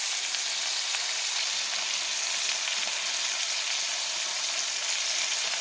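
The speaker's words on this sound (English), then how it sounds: "And I'm also going to be putting on some onions." Onions hit a hot pan and sizzle with a dense, steady hiss. The crackle stays close and even for the whole stretch, with no one speaking.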